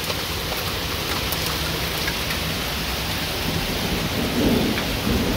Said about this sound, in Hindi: बारिश आ रही है, बहुत सारी बारिश आ रही है।